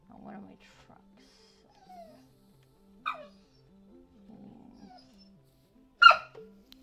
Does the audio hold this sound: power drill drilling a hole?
no